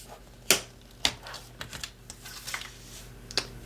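Cardstock being cut to size for storage bin dividers, a handful of sharp crisp snips and clicks spaced irregularly, close and fairly quiet with no talking.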